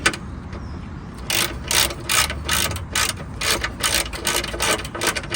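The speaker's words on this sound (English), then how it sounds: "So let's do up the bolts underneath for the steering rack." Ratchet tightening the steering rack bolts underneath a Volkswagen Beetle 1.9 TDI PD100: rapid, loud clicking bursts of the pawl, repeated in quick strokes, close up with no talking.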